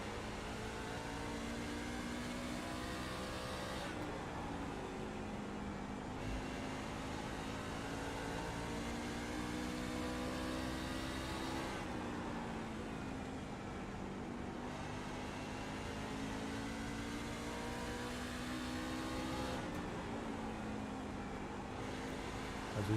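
Racing trucks lapping Bristol in a racing video game, a steady loud engine drone with pitch rising and falling in repeating waves as the pack circles, continuous throughout.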